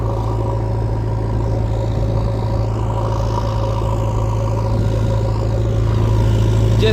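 A JCB excavator engine runs steadily at close range, a loud continuous low drone and rumble with no change in pace throughout.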